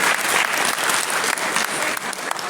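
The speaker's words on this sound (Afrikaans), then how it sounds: "Kom ons klap vir Hannes" A church congregation applauding, with dense, steady clapping that carries on throughout.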